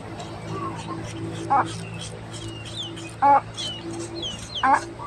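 Chickens on a coconut-harvesting outing give short, sharp clucks and calls, three distinct bursts spaced a second or so apart over a steady outdoor background with distant birds.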